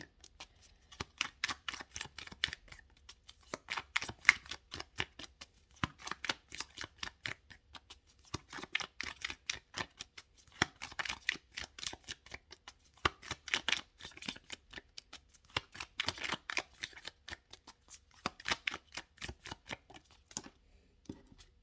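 Tarot cards being shuffled in quick riffling bursts, close up, with brief pauses between rounds and no talking.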